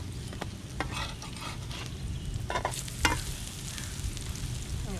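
Pancake-like fritters frying in a pan with a constant crackling sizzle, scattered pops and a few utensil scrapes, close up and steady, no talking.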